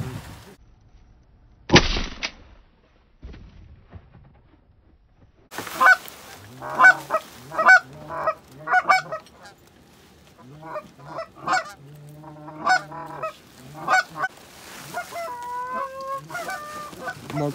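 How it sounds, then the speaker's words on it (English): Geese honking in a flock, calls growing louder as they approach, with a couple of sharp bangs early on and some outdoor noise. "Geese are coming right in."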